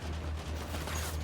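Turrets fire in the video game Death Stranding as a dense, continuous burst of loud gunfire that fills the whole short stretch.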